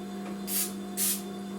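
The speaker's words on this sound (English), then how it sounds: "I have canola oil spray." Two short hissing bursts of a canola oil spray can while making bao buns, evenly spaced and close by, over a faint steady hum.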